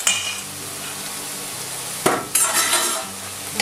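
Chanterelle mushrooms sizzle softly in a pan for an omelette, with a steady low frying hiss and a few clinks and scrapes of a utensil stirring against the pan.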